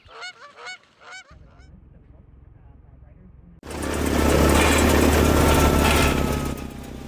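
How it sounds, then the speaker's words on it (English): Geese honk for a moment, then a low engine idles before a snowblower roars up near and loud, blowing away snow with a steady rushing drone to the end. "take my snowblower, use it for the last time of the year"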